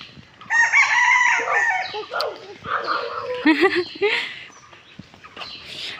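A chicken squawks and clucks in loud, agitated bursts near a muddy yard as a child startles it, with people talking throughout.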